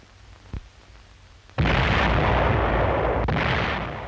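US artillery pounding Tinian, from archival Pacific war footage: a small thud, then a heavy sustained blast of booming fire that stays loud and rolling for several seconds before easing.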